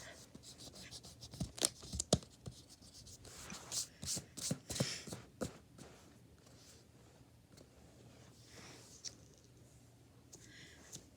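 A pencil drawing of a horse is erased with quick rubbing strokes that come in bursts, then slow to a few scattered scrapes, faint and close, with a soft voice murmuring now and then.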